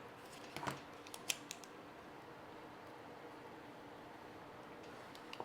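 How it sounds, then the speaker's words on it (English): Wire is snipped while fitting an ESC to a Furitek Micro Python Pro RC car, heard as a few faint close cuts and clicks early on, then quiet background hiss. "I'll have to cut this off."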